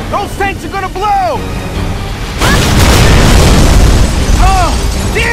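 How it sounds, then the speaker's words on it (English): Tanks blowing up in Gears of War 3 give a heavy booming blast that swells into a sustained roaring rumble, with shouted voices over the action before and after. "Those tanks are gonna blow!"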